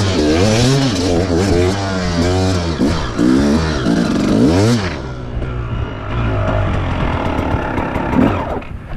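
A 300 enduro motorcycle engine pulls at low revs on a muddy trail, its loud, close thrum rising and falling through repeated throttle sweeps before settling into a rougher, steadier rumble.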